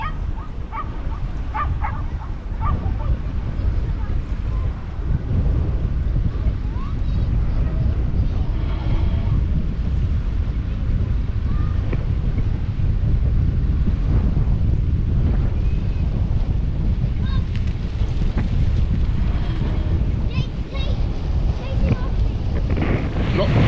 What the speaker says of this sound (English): if you're going to be able to hear me due to the wind